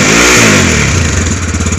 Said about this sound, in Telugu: బైక్ యొక్క బీటింగ్ ఒకసారి చెక్ చేద్దాం నువ్వు